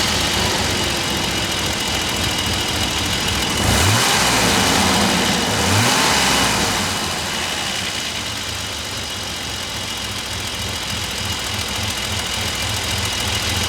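A BMW E34 535 with its six-cylinder engine runs steadily nearby, a constant low rumble with two brief rises in revs around the middle before settling back to an even idle-like drone.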